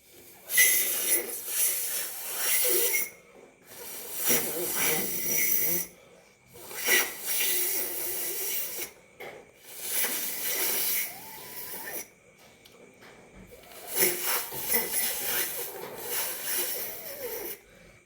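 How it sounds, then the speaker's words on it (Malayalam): A person blows air into a leaf in repeated long breathy gusts with short pauses between, a hissing, airy rush close to the microphone. "നമുക്ക് ഇങ്ങ് നമ്മുടെ ഇലയ്ക്ക് ഊതി കൊടുക്കാം"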